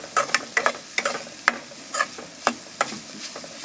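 Grated coconut filling for kozhukattai sautés in a pan under a soft sizzle, while a spatula scrapes and stirs in distinct, rhythmic strokes about every half second.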